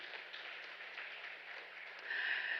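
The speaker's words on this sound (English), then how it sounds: "with a warm round of applause from all of you" Audience applause opening an infectious disease research symposium, a steady, dense wash of clapping from a large hall, held at an even level before swelling slightly louder near the end.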